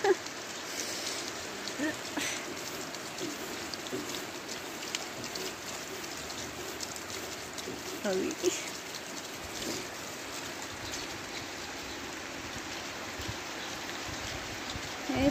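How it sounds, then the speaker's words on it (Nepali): Steady light rain patters in a hill village during changeable sunny-showery weather, an even close hiss of drops on surfaces with a few faint knocks, and no voices. "पानी परिरह।"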